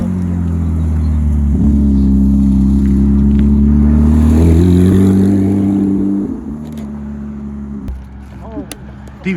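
A Porsche GT4 fitted with a big rear wing rolls into a foggy supercar meet, its engine a loud, steady low drone that swells slightly and then drops away to a quieter idle as people chat nearby.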